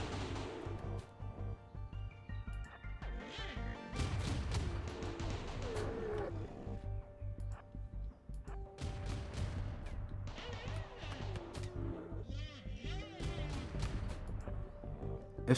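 Turrets in a RimWorld colony defence fire in scattered bursts of sharp shots amid ongoing battle noise and creature roars, moderately quiet and irregular.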